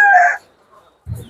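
Chickens on a farm: a loud rooster crow opens, then low clucking returns near the end, close and clear.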